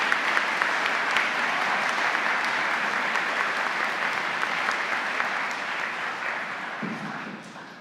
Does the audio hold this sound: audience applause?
yes